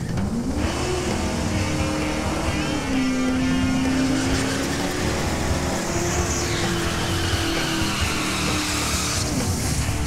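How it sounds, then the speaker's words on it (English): A 1946 Chevy truck with a 509ci big-block and nitrous does a sideways burnout at a drag strip: a loud, steady engine roar with tire squeal runs throughout, and no one speaks. "Sideways burnout."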